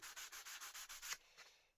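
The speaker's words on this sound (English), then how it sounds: "I'll carry on sanding that up" Rhythmic back-and-forth scratching of fine sandpaper on wood, about nine steady strokes, close and alone, slowing to a couple of lighter rubs.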